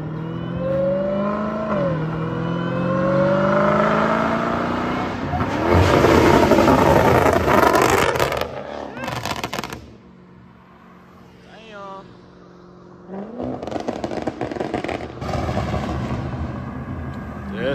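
A Chrysler with its catalytic converters removed revs hard and loud, rising and falling through several pulls, dropping to a quieter idle, then roaring again. Voices talk over parts of it.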